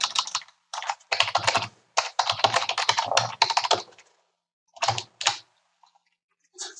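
Rapid keystrokes on a computer keyboard as an email address is entered, clattering in dense bursts with short pauses and a few isolated taps near the end.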